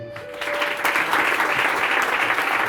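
A church congregation bursts into applause for a man named Josué, building quickly from a lone tone into sustained, dense clapping that carries on throughout.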